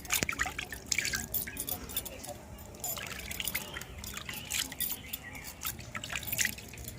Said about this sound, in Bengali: তো এবার ধুয়ে নেবো আমি আস্তে আস্তে।